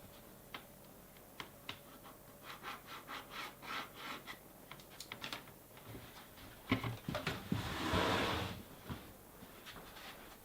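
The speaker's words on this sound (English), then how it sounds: "So I'm going to take my little tool and cut it." A small hand tool cutting wooden window trim, first a series of light ticking and rubbing strokes in an uneven rhythm, then a louder run of close, rasping saw-like strokes near the end.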